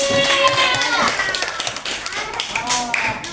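Children clap together in a classroom, a burst of quick, uneven hand claps with some voices mixed in, close and fairly loud.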